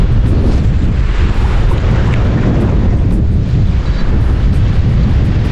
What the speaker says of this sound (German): Alter Schwede, dieser Wind.